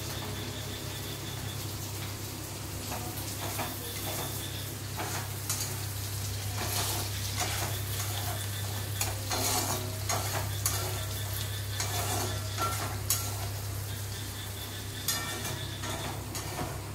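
Onion and capsicum sizzle and crackle in a hot pan for chili chicken, with steady stirring scrapes and spatula clicks over a constant low hum, close and continuous without a break.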